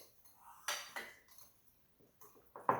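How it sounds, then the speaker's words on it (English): A whisk clatters against a bowl while mixing donut batter, a few sharp metallic clinks and scrapes spaced irregularly, close and fairly quiet, with brief pauses between strokes. "So we're going to whisk this until it gets nice and smooth."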